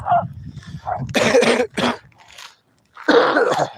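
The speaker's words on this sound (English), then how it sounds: "Sorry about the coughing." A person coughs several times in rough, harsh bursts, close to the listener, with a short pause before a final heavy cough.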